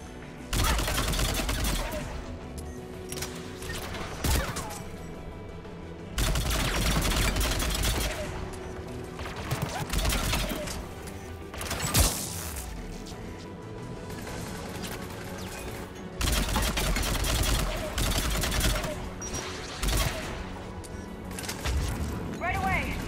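Anti-aircraft guns on Rannoch in Mass Effect 3 fire in sustained loud rapid bursts, pounding volleys broken by brief pauses, with voices talking over the gunfire.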